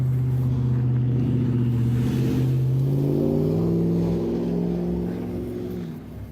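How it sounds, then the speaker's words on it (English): A car drives past nearby, its engine hum swelling loudly and then slowly fading away, with no talk. "There's a car"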